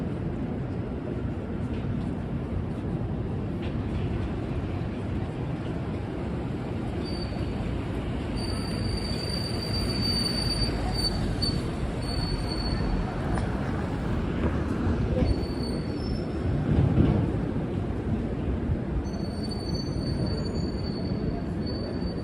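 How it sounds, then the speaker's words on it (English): A New York subway train moves through Wall Street Station with a loud steady rumble of rolling wheels and repeated high metallic wheel squeals above it, rising slightly partway through. "This is Wall Street Station. You can get the 4 or 5 trains uptown."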